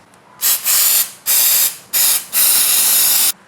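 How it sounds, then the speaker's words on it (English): Four loud, close bursts of brake cleaner spray hiss out onto a motorcycle brake rotor in quick succession, each a second or less, separated by brief pauses. "I want to spray it with some brake cleaner"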